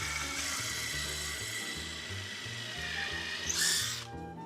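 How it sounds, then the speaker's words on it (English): A power drill bores into a knot in a wooden board for a sign, giving a whirring, stuttering grind with a pulsing, uneven rhythm that ends in a brief high burst before the motor stops. "I'm drilling into a knot."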